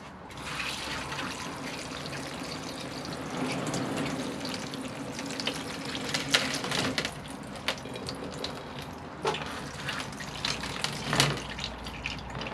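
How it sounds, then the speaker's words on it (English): Water pours steadily over a potted Portulacaria afra bonsai for several seconds, splashing and trickling as it drains down through the stones and soil, close and moderately loud, with no voices. "And we'll give this a water."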